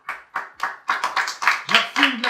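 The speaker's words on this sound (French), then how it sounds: "Merci d'applaudir ces jeunes demoiselles belles, mignonnes." An audience claps for a group of young women at a party, with sharp, rhythmic, somewhat sparse handclaps that grow denser, joined near the end by a brief vocal sound.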